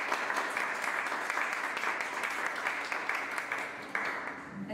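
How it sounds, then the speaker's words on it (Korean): A university lecture audience gives a speaker a big, continuous round of applause, a dense wash of clapping that holds steady and fairly loud from start to finish. "한 번 더 큰 박수 부탁드리겠습니다"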